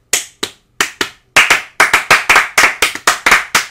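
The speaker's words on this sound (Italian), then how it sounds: "E parte l'applauso spontaneo" Close, crisp hand claps start sparse and irregular, then settle into a quick, steady rhythm of single sharp claps, with no talking.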